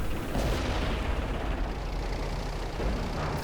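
Tank cannon fire in World of Tanks, a heavy booming blast with a long rumbling roll-off that fills the whole stretch, loud and near, with no talk.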